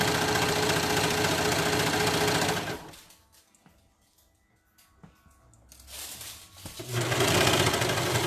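A serger-style sewing machine with a cutting blade stitches a leggings seam, running loud and steady, pausing for a few seconds of near quiet in the middle, then starting up again at full speed.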